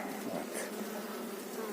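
A dense, continuous buzzing of many honey bees close by in a hive, a steady droning hum with no talking.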